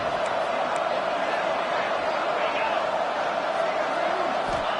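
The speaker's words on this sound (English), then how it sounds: "This Boise State crowd bringing the noise. It's deafening here on 3rd down." Boise State home crowd roaring on third down during a college football game against Michigan State, a dense, sustained stadium roar holding steady throughout while a commentator talks over it.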